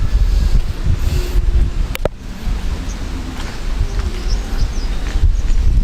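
Wind gusts buffet the microphone outdoors in a cemetery in a steady low rumble, with a sharp knock partway through and faint birdsong in the background.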